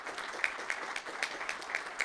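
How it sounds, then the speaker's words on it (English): A crowd at a banking and finance expo launch event in Mumbai applauds steadily, many hands clapping together in a dense, even patter with a few sharper claps standing out. "Big round of applause."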